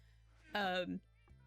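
A cat in the Minecraft video game gives a single clear meow of about half a second, standing out against a quiet background.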